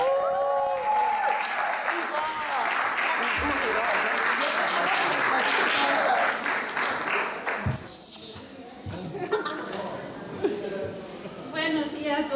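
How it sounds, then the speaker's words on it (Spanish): A church congregation applauds a speaker as she is welcomed: sustained, dense clapping for about seven seconds that then thins and fades, with a few voices and cheers mixed in. "quiero que recibamos con un aplauso a Mitzi"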